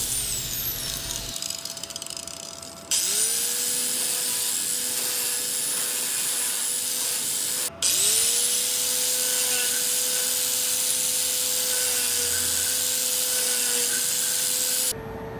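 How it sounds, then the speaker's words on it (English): An electric power tool whines steadily while cleaning aluminum before welding, with two long bursts of high, sustained grinding that each start up with a short rising pitch and run loud and close, separated by a brief stop. "I got to prepare this aluminum, clean it up so I can have a nice weld"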